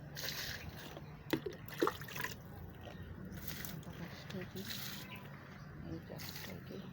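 Water pours onto an aloe vera plant in a pot, making soft trickling and splashing that stays faint, with a voice talking over part of it.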